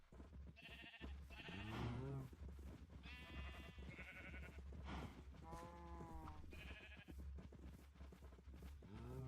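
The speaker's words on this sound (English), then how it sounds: "Didn't mean to get sheep, but hey," Sheep bleat repeatedly in Minecraft, several wavering cries in succession from a nearby flock, fairly loud and steady over a continuous low game background, with no talk.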